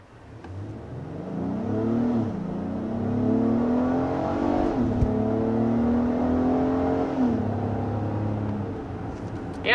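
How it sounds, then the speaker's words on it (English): Acura MDX A-Spec V6 revving: repeated rising and falling engine pulls with a raspy, meaty note, close and moderately loud, with no speech. "the engine makes a nice sound, too. It's got a good raspy, meaty type of note to it"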